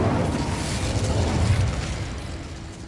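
An Incendio fire spell in Hogwarts Legacy lets out a loud, roaring whoosh of flame with a deep rumble that swells and then slowly fades, no voices present.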